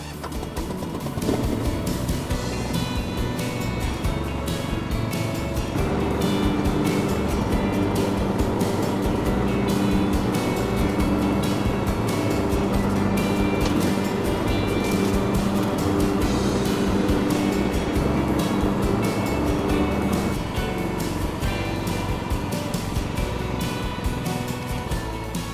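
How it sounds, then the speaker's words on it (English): A Cobra ride-on lawn mower runs and cuts grass in side discharge mode, its engine giving a loud, steady drone the whole way through, with a slight rise in intensity as mowing gets under way. "I'm just going to show you it mowing in the side discharge mode."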